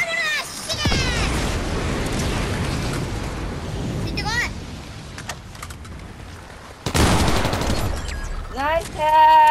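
Gunfire in the video game Fortnite: dense, sustained bursts of shots fill most of the stretch, dropping briefly before a loud new burst near the end, with players' voices talking over it.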